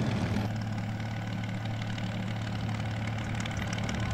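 Aircraft engine idling before takeoff in the video game Warplane Inc., a steady low droning hum with constant loudness, alone without talk.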